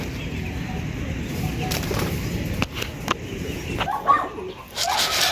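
A pigeon coos softly nearby, with a few sharp wing flaps and rustles breaking through a steady low outdoor rumble.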